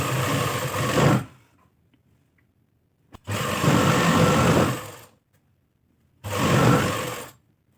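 A sewing machine stitching salwar seams runs in three bursts, about one to two seconds each, separated by short silences. The motor whirs loudly and close, with no talking.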